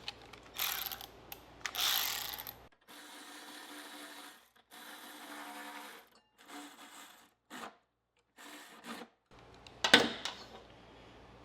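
Ratchet turning an 8mm socket on a Cub Cadet mower deck while blade brakes are fitted, with several bursts of quick close clicking separated by pauses and quieter mechanical handling.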